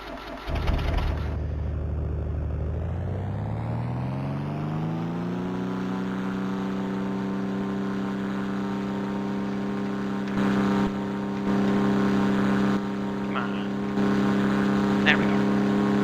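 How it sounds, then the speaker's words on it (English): Propeller plane engine in a Minecraft flight simulator starts low and rises steadily in pitch to a sustained droning hum, loud and continuous, with brief bursts of other noise near the end. "Engine, propeller."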